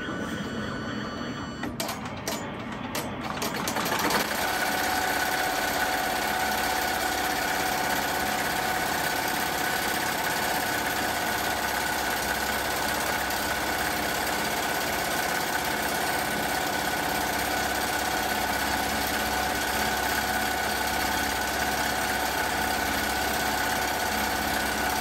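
An embroidery machine stitching a crochet tote bag runs with a steady, close mechanical hum and a fast, even whir, after a brief burst of clicks as it starts up, continuing unchanged to the end.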